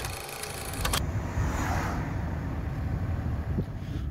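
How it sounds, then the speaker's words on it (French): Busy, congested road traffic near the beach at Le Barcarès on a windy day: a steady, fairly loud rumble of passing cars and wind noise that fills the whole stretch, with no talking. "Il y a beaucoup de circulation"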